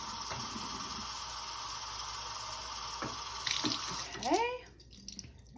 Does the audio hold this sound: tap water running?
yes